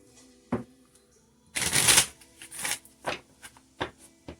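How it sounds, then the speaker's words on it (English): Tarot cards being shuffled by hand, a series of short crisp riffles and taps with one longer flurry of card noise in the middle. "So I'm going to shuffle."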